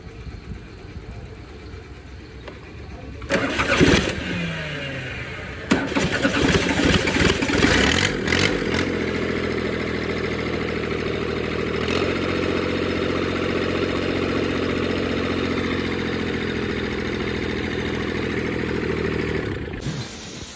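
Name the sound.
tractor engine starting and idling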